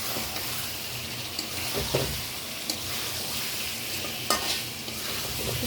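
Chicken being stir-fried in a fiery red spice masala, a steady loud sizzle with occasional scraping strokes of a spatula against the pan, close up and with no talking.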